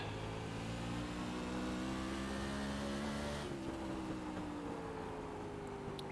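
A sprint car engine in the iRacing sim at Irwindale Speedway holds a steady droning roar at throttle, its pitch easing slightly downward partway through, with no voices.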